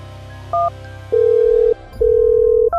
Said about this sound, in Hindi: फोन करके पूछ उससे।